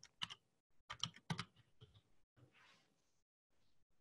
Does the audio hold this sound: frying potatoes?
no